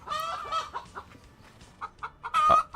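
Chicken in the farming video game Agricultural Simulator 2013 clucking in short, close bursts with brief pauses between them.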